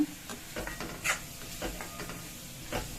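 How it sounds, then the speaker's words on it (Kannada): Fresh green peas tipped into a pan of frying masala for mushroom matar, giving a soft sizzle with repeated scraping stirs and light clinks of a spoon against the pan, close and moderately loud with no talk. "ಈಗ ನಾವು ಹಸಿ ಬಟಾಣಿನ ಹಾಕೊಂಡ್ಬಿಡೋಣ"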